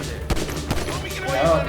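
Gunfire from GTA 5 gameplay: two sharp, loud shots stand out about 0.4 seconds apart, followed by softer shots over a steady game backdrop, with a rising tone near the end.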